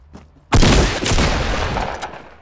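Sudden loud burst of gunfire in Fortnite Battle Royale on mobile, a sharp crack followed by a dense, sustained roar of shots and reverb that slowly fades over two seconds.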